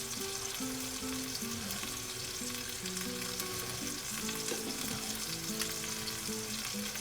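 Beef for pot roast browning in a pan throws off a dense, continuous sizzle with occasional stirring scrapes, while steady tonal music plays underneath throughout.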